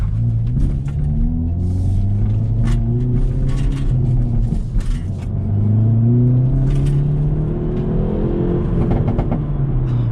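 Engine of a facelifted 2021 Hyundai Veloster N on a night drive, a loud steady rumble with rising and falling revs heard from inside the cabin, with no talking.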